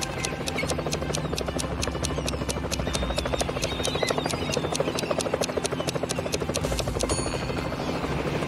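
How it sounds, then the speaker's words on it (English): A helicopter flies over a pool, its rotor beating out a fast, even chop over a steady engine hum, loud and close throughout. "flying in a helicopter over the pool to check the situation"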